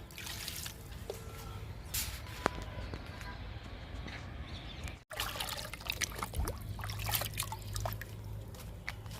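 Liquid fertilizer poured onto pomegranate plants in a garden, giving close dripping and trickling with scattered splashes and a short break partway, faint overall with quiet talking in places.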